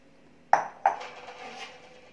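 A plate set down on a kitchen counter for making bread pizza: two sharp ceramic clinks in quick succession, close and clear, ringing briefly and fading.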